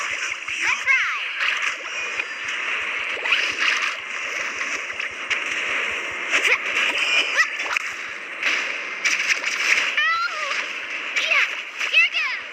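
Water splashes loudly while waves are ridden in a video game, with continuous spraying rush and sharp whooshes, under cheerful game character voices.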